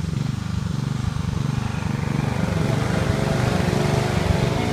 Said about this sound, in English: I'm mowing this thing at the highest setting on my 21